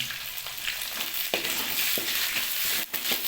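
Ginger garlic paste sizzles loudly in a frying pan with chicken liver, a steady hiss of hot oil broken by occasional scraping stirs, with no one talking.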